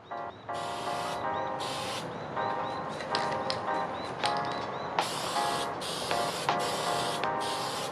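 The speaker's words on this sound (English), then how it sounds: "painting from maybe 20-ish centimeters away" Spray paint from a can hisses onto a mechanical keyboard from about 20 centimeters away in light coats, coming in repeated short bursts with pauses and a faint rattle between, recorded close and alone.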